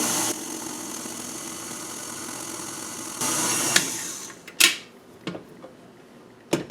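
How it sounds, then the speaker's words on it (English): A stand mixer hums steadily on low speed while kneading parmesan breadstick dough, then stops and gives way to a few sharp knocks and clatters nearby. "continue mixing on low speed until a shaggy dough is formed"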